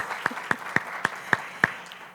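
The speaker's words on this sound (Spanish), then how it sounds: "a quien damos un cálido aplauso." Six slow, distinct hand claps spaced about a quarter second apart, close and crisp, like a small scattered round of applause at a conference inauguration.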